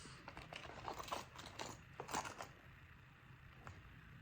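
Light metallic clinks and jingles come in short bursts over a quiet background, a set of keys being handled close by.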